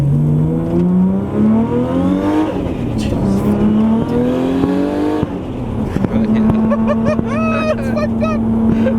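A 900+ hp right-hand-drive Nissan R34 GTR with an RB26 engine accelerates hard, its rising roar climbing through several gears with shift breaks, loud and close from inside the car, with people talking over it.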